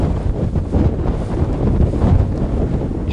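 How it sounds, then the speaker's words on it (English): Strong gale wind buffets the microphone on the top of Dover cliff beside old World War II anti-aircraft defences, a loud continuous roar with rumbling gusts and no voices. "It's blowing a gale again"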